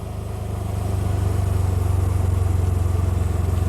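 A Dacia Jogger with a side exit exhaust idles close by, giving a steady low, pulsing burble that swells slightly and then holds even.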